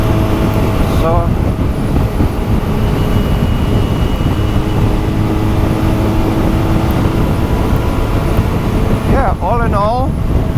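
A QJMotor SRK400 motorcycle from 2023 holds a steady, loud engine roar with strong wind rush while cruising at high speed, unbroken for the whole stretch, and a voice briefly cuts in near the end.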